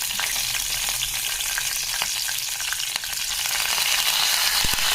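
Cashews and green chillies fry in hot oil left from frying brinjals, with a loud, dense, continuous sizzle and faint crackles throughout, close and steady, with no talking.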